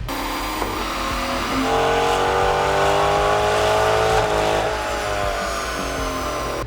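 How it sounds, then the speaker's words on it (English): A powerful naturally aspirated Corvette C8 engine with a big cam on E85 roars at sustained high revs on a dyno, its tone climbing steadily and holding loud throughout before easing slightly near the end. "So we have this car back in the dyno now"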